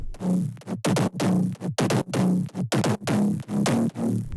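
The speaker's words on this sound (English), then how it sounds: "Mid-bass with effect sounds like this" A processed mid-bass synth for melodic bass house pulses in short, rhythmic, ducking stabs, loud and gritty, with gaps between each pumping hit.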